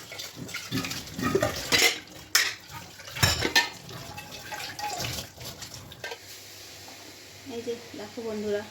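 Dishes and utensils being washed in a home kitchen, with clattering metal pots and cutlery and running water in bursts, mixed with a person talking throughout.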